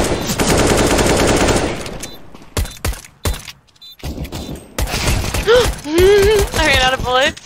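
Rapid automatic gunfire bursts loudly at first, then scattered single shots, followed by a voice talking with excited, rising tones.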